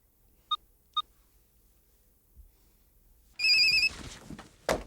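A telephone rings with two short electronic chirps near the start, then a louder tonal ringtone bursts in later, followed by a sharp tone at the end; no one speaks.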